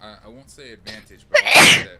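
A single loud, sharp sneeze from a person at a tabletop role-playing game session, following a few words of speech.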